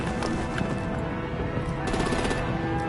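Gunfire and artillery in the Batman Telltale game The Enemy Within on PS5, a continuous dense rattle of rapid shots and blasts, loud and unbroken throughout.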